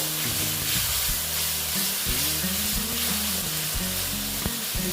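Cumin seeds fry in hot oil over lowered heat, with a steady, close sizzle and crackle lasting throughout, broken by faint scraping of a spoon in the pan.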